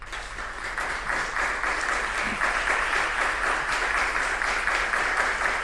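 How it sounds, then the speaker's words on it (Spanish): Audience at a Spanish-language climate change panel gives a strong round of applause, thick and sustained clapping that stays even from start to finish. "dar las gracias a este espacio con un fuerte aplauso"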